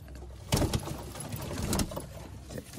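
Madras pigeon cooing close by, two short bursts of soft throaty calls with a pause between, faint background noise and no talking.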